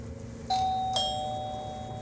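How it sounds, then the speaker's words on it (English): Two chimes of a doorbell ring out in quick succession, each a clear electronic ding that lingers and fades, heard alone in a quiet room. "I rang the doorbell again."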